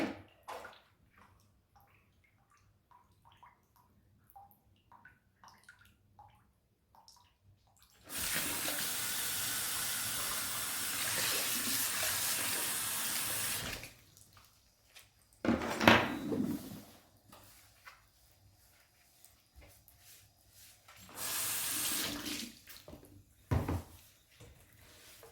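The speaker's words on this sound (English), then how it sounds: "now I'm going to just clean up this sink a bit" A tap runs steadily into a sink during cleanup after fabric dyeing, a loud broadband rush lasting several seconds, then cutting off. Shorter bursts of running water follow with quieter handling clatter in between.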